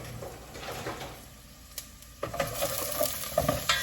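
Onions and garlic sauteing in a pan for a red sauce, a soft continuous sizzle with a few spoon scrapes and light clinks, getting busier toward the end.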